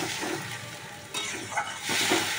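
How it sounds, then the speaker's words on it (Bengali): Spice paste with a splash of water fries in a pan, giving a continuous crackling sizzle with bursts of stirring and scraping. "দিয়ে মশলাটা ভালো করে কষে নেব"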